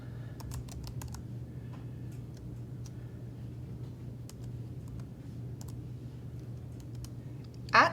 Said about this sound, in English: you need to type in your entire email address